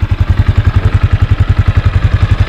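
A Yamaha Sniper 155 motorcycle engine runs close by at a steady idle, its rapid, even low-pitched chugging loud and uninterrupted throughout.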